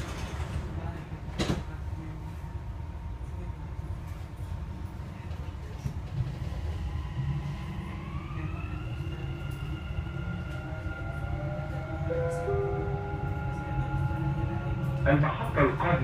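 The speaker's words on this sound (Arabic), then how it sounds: "Doors closing." Driverless Dubai metro train at a station: a two-tone door chime and rising whine as the doors close, followed by a mechanical thud and hum, with a recorded announcement voice over steady cabin rumble.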